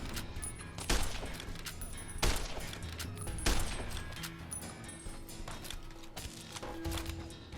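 Enemy gunfire in the video game Fallout: New Vegas: several sharp, loud shots, spaced a second or more apart, over a busy backdrop of game noise.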